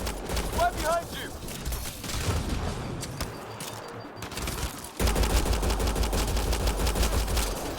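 Heavy gunfire in the sci-fi shooter Mass Effect: Andromeda, with dense overlapping bursts and shots during a firefight that grow louder and thicker partway through, mixed with shouted voices.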